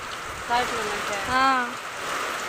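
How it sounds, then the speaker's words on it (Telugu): Heavy rain pours down steadily at night, a continuous broad hiss of falling water that carries on under a person speaking briefly. "పెద్ద వాన"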